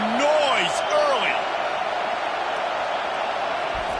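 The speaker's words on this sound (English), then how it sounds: "This crowd bringing the energy and noise early." Football stadium crowd keeps up a steady, dense roar throughout, with a few rising and falling voice-like calls and whistles over it in the first second and a half.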